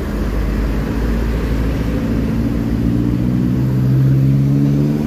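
A Prima Jasa bus engine pulls hard while overtaking on the road, a loud, steady low drone rising in pitch as it accelerates, with no talk over it.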